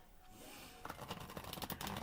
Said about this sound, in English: One more shuffle and then we'll see what we get.